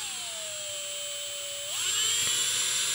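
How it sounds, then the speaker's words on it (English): A hand drill grinds through the riveted plastic of a car door mirror on a Toyota MK4 Supra under restoration, a steady high whine that shifts pitch and loudens partway through, with no talking. "So he's just drilling this out slowly."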